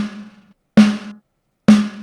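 Drum kit snare sample played without its snare wires, mixed from just two mics: three sharp, dry, tonal hits with a short ringing body, the first already decaying, spaced with short silent gaps between them.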